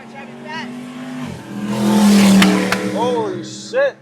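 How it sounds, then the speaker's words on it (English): A car at a busy car meet accelerates hard and revs loudly up close, the engine note climbing and swelling before easing off, with a tire squeal and people talking around it. "This car driving fast."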